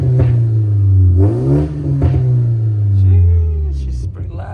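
A BMW with a newly installed downpipe revs loudly at close range, the engine rising and falling in several swells with crackling exhaust pops between them.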